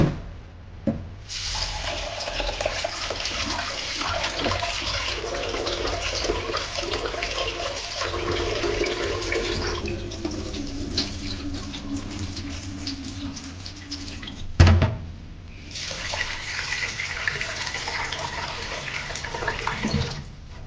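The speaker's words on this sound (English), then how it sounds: "Wash the sticky rice in several changes of water until it runs clear." Water sloshing and swishing as rice is rinsed by hand, continuous splashing with a brief pause and a clunk partway through.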